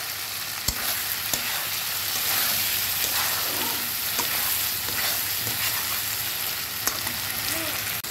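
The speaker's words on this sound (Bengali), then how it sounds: "আমার ডিম ভুনার মশলাটা ভুনা হয়ে গেছে। এখন আমি ডিমগুলো দিয়ে দিচ্ছি।" Duck eggs being fried in a spice masala for egg bhuna, a loud continuous sizzle with occasional spoon knocks and stirring against the pan, no voices.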